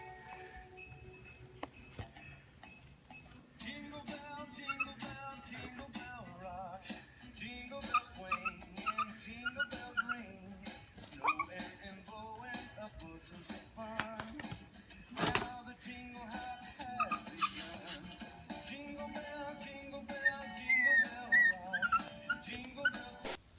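A dog shut inside a cardboard gift box whimpers and yips in high, repeated cries over most of the stretch, fairly close and with little talk around it.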